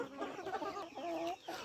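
Chickens on a desi poultry farm cluck and murmur close by in a steady run of short calls, with one louder call standing out near the end.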